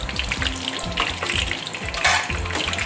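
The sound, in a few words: chicken schnitzel frying in oil in a pan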